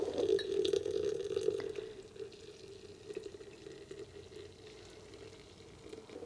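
Hot water at 90 degrees poured from a kettle onto loose tea leaves in a press pot, with a steady close trickle and gurgle that is strongest at first and then eases into a softer, fainter flow.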